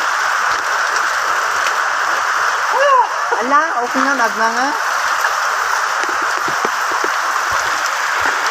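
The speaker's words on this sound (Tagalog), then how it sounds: "Maliligo tayo sa ulan." Heavy rain pouring outdoors during a typhoon with flooding, a loud, continuous hiss of downpour throughout, while a person speaks briefly partway through over the steady rain.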